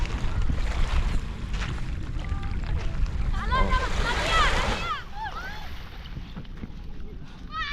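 Strong surf breaking on the shore at Baseco beach in Manila Bay, a continuous rushing wash with wind noise and chirping birds, while people talk in the background.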